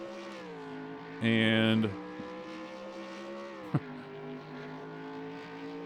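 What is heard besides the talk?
race car engines in video game NASCAR Racing 2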